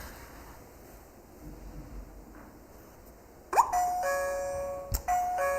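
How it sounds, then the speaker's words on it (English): A smart lock's doorbell rings out a bright electronic chime after a quiet, breezy stretch, its tones sounding clearly and close with a brief repeated note near the end. "Sure, let's ring the bell for this one."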